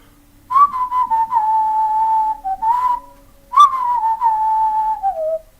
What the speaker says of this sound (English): We always, like, whistle the same things at the same times, like, in tune with each other.